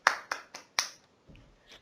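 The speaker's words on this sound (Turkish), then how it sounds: "Alkış alalım bir tane." A few separate hand claps, four sharp close strikes in quick succession, then a couple of faint soft sounds, with a gamer voice-chat setting during an EggWars match.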